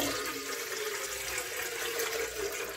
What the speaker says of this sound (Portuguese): Eu vou pegar essa chaleira aqui e vou colocar o nosso litro de água lá.